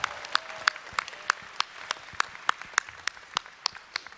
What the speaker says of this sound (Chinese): 我们给一个最大的欢呼给这个师兄好吗？